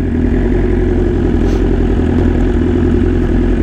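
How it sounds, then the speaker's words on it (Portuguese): An older man's motorcycle idles close by, a loud, steady low engine rumble with an even pulsing texture that holds unchanged throughout. "Curtindo a motoca."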